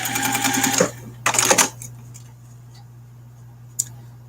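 A sewing machine stitching a lanyard ID holder runs in two short bursts, near and distinct, followed by faint clicks and a quiet hum.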